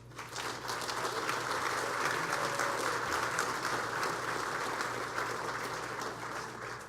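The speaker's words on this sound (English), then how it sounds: "give them a round of applause" An audience at a formal dinner applauds former award winners, steady dense applause filling the room, sustained and fairly distant, easing off slightly at the end.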